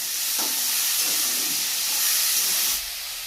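Pieces of sweet pumpkin (misti kumro) frying in oil give off a steady, close sizzling hiss that runs throughout and eases slightly near the end, with no talking.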